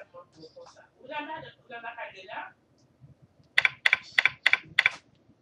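A username is typed on a computer keyboard in a quick burst of five or six crisp, close key clicks, following a short stretch of speech.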